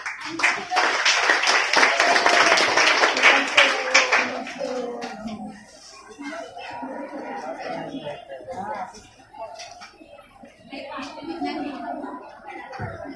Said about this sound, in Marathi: फक्त टाळ्या वाजतील, तोंडाने आवाज येणार नाही